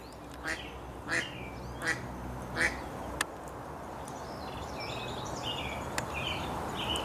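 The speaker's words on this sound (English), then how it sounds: "Man, I got a super talkative duck over here." A talkative duck by a creek gives four or five separate, moderately loud quacks at a steady pace, then falls quiet under a continuous wash of flowing water and wind.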